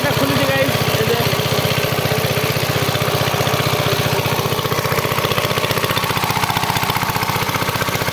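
An irrigation pump engine runs in a chilli field, a loud, close, rhythmic chugging that stays steady throughout at an even idle-like pace.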